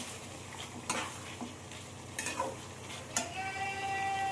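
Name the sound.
chicken being sautéed and stirred for biryani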